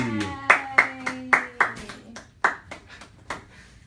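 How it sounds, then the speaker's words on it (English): A single person claps alone at a comedy open mic, with about a dozen sharp, separate claps spaced irregularly in a quiet room and no crowd joining in. "I was the one solo clap you heard."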